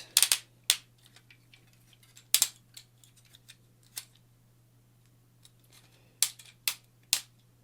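A ratcheted joint on a metal Cardbot S Muscle Hyde transforming toy robot clicks in short, crisp bursts, several quick clusters spaced a second or two apart, close and fairly quiet with a steady low hum beneath.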